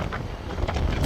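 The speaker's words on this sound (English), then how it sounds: "it's really windy here" Wind buffets the microphone in a low, rumbling roar that swells and gusts throughout the short stretch.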